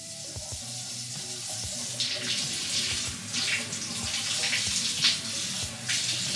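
A tap left running into a sink or basin, a continuous splashing stream with irregular spattering bursts and clinks underneath, fairly close and steady with no talk.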